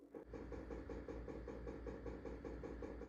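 A car engine running with a steady low rumble and rhythmic pulsing swells, as if revved repeatedly, heard at night from indoors near a staircase; continuous and fairly loud, with no speech.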